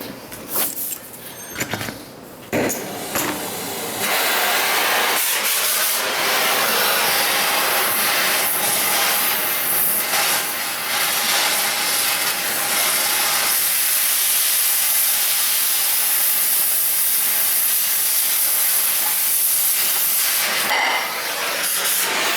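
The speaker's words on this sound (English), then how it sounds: "it is gonna drop a little bit when we cut that last U-bolt" Steady, loud hissing roar as the last U-bolt holding a Toyota Tacoma rear leaf spring is cut, running unbroken for most of the clip after a few brief knocks and scrapes at the start, with no talking.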